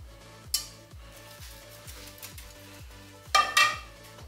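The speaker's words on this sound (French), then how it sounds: "On va bien mélanger." Pastry cream being stirred in a pot just after hot milk is poured in, a steady rhythmic scraping of whisk or spoon with a couple of sharper metallic clinks near the end, close and alone with no talk.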